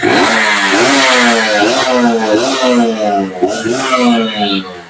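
A 2014 Kawasaki Ninja RR two-stroke motorcycle engine revs up and down nearby, loud and buzzy, with repeated rising and falling throttle blips and a slight rattly clatter underneath.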